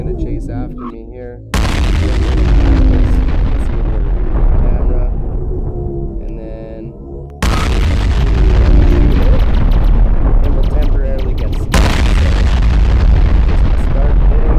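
Loud blasts from homing rockets and seeker balls in the Hyperwheel Overdrive video game, several heavy bursts of booming noise following one another over a continuous roaring game soundscape.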